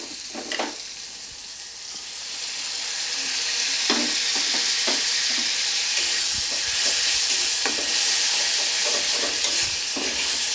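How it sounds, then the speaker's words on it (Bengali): Egg curry masala sizzles and fries steadily in oil once beaten curd is added, with a continuous bright hiss broken by repeated stirring scrapes and spoon clatter close by, and no one talking. "এই অবস্থায় এবার এর মধ্যে আমি দিয়ে দেবো ফ্যাটানো টক দই।"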